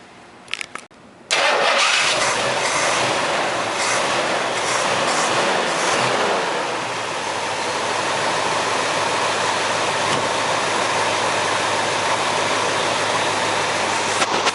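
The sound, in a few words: V8 muscle car engine idling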